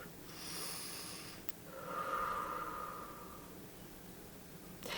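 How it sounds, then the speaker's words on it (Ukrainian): A single deep inhale in a quiet room, a soft breathy draw that swells to its fullest around the middle and then fades, close and alone with no talking. "Зробіть глибокий вдих."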